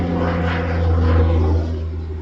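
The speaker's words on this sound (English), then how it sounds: "Here comes some big airplanes," Large propeller crop duster airplanes flying past, a steady loud low engine drone that swells toward the middle and then eases slightly as they pass.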